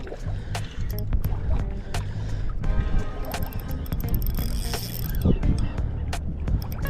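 Fishing reel drag ratcheting on an ultralight setup as a herring pulls line while lure fishing in Rockingham, Western Australia; a fast, continuous mechanical clicking runs steadily throughout, close to the microphone, with water noise underneath.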